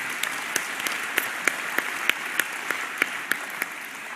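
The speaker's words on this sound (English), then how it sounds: "that's so lovely of you to clap" An audience claps for a Scottish Muslim MP speaking on an Islamophobia definition resolution, a moderate, continuous applause with a few sharper claps standing out at regular intervals.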